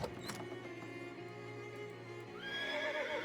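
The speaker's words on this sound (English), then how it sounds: "Pretty sure this horse has seen some shit." A horse in the video game Shadows over Loathing gives a drawn-out whinny that rises near the end, alone over a steady background of game ambience.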